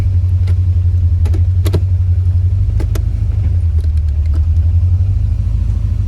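A 1984 Chevrolet Corvette engine runs in gear, a deep, steady low rumble that shifts pitch slightly partway through, with a few faint clicks and ticks above it.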